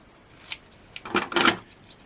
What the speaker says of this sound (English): if I just grab my scissors again